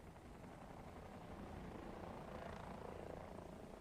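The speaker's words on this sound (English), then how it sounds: "did hear another helicopter" A helicopter flies in the War Thunder combat game, its rotor thrum a steady, fairly faint drone under broad engine and battlefield rumble, with no clear voices.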